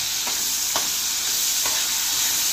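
Tomato and coarsely pounded spice paste frying in oil, a steady hiss of sizzling with a few soft spoon scrapes, close and without talk.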